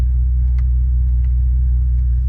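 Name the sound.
Bentley engine running at operating temperature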